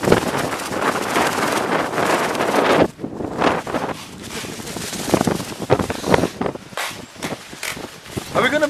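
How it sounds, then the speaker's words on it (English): Strong wind on a Texas night buffets the microphone with loud, gusty roaring that dips briefly and then surges again. A person talks under the gusts. "It's really windy out here."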